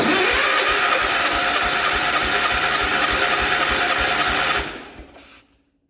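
A 1967 Gravely 430 walk-behind tractor engine runs loud and close, with a steady rapid single-cylinder chug, before cutting out and fading to silence in the last second.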